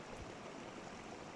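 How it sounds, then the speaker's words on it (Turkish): Steady broadband rush of a mountain waterfall and stream in winter, with the water coming down from Kavaklı Dağı. The flow sounds continuous and even, fairly distant and soft, with no voices. "Şelaledeyiz."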